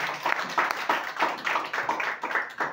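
A church congregation claps in unison, a steady rhythmic beat of many hands of roughly three claps per second, filling the room at moderate loudness.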